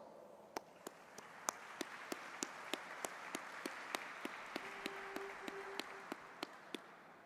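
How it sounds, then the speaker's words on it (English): Faint applause from the audience at a City University Qatar ceremony, a soft wash of clapping with sharp, evenly spaced single claps or taps standing out near the microphone, and a brief tone midway. "Please join me in showing our appreciation through a warm round of applause"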